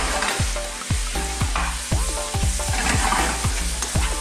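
Bananas frying in butter and honey in a pan, a dense close sizzle broken by a regular series of knocks and scrapes as pieces are turned over one after another.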